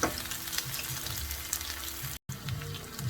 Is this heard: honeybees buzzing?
no